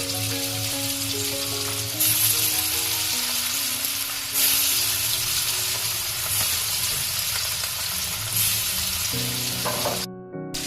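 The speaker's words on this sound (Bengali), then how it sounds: "এবার আমি এই তেলের মধ্যেই ইলিশ মাছ ভাজা করে নেব।" Hilsa fish frying in oil in a kadai gives a loud, continuous sizzle and crackle close up, with a steady hum beneath and brief stirring shifts, cutting off abruptly near the end.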